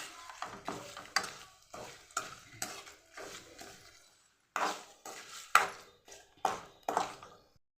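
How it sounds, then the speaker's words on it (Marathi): Bay leaves roasting in oil for black masala are stirred and tossed in a pan, making a close series of rhythmic scraping strokes with short pauses and a gentle crackle underneath. "आपल्याला यामध्ये हा तेजपत्ता भाजून घ्यायचा आहे"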